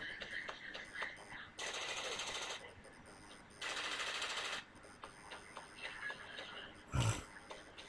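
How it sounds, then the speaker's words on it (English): Automatic gunfire in the Frontline Tactics video game comes in two distinct sustained bursts of rapid shots at moderate volume, followed by a single heavier impact, with talking heard in between. "I'm trying to shoot something here"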